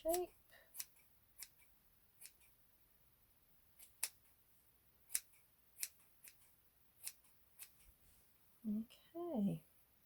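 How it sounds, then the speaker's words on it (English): Scissors snip through material for an Easter bunny craft in a quiet room, about a dozen crisp, separate cuts spaced irregularly, with a few soft voiced sounds near the start and end. "It's very easy to keep on snipping because it's quite addictive."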